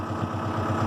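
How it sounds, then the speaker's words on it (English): A New Holland tractor engine idles at about 1,000 RPM, giving a steady, close, throbbing diesel rumble with no break. "So I'm going to idle the engine up to about"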